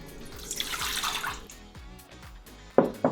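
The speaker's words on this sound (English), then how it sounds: "We're going to do 207 grams of water" Water pouring into a bowl for croissant dough, about 207 grams, a close trickle and splash with dripping sounds and a couple of sharp clinks at the end.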